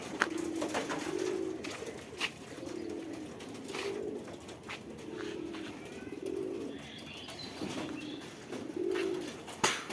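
Pigeons at a local pigeon farm coo in soft, repeated low bursts at close range, with faint rustling and scattered clicks in between.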